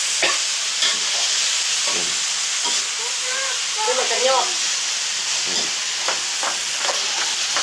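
Lao-style taro stalks (thun) are stir-fried in a pan with a constant close sizzle and hiss, broken by rhythmic scraping stirs, and a voice speaks briefly partway through.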